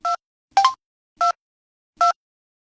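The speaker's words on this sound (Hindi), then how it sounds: "ये मोबाइल है, इसमें तो बटन भी है, मैं दबा दूंगा" Four short beeps from a mobile phone's keypad as buttons are pressed, spaced unevenly over a couple of seconds, close and clear with nothing else around them.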